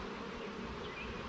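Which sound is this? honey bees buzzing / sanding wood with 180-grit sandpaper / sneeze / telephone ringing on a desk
honey bees buzzing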